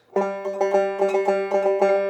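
A short, bright banjo 'potatoes' kickoff lick: quick, evenly spaced plucked notes repeating in a lively rolling rhythm.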